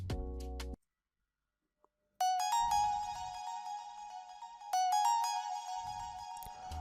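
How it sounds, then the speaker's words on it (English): Bright synth pluck from the Spiral plugin's Arisen preset, a short burst, a brief gap, then sustained ringing tonal notes with a few re-attacks, along with low thuds underneath and no voices. "this pluck sound that sounds like this"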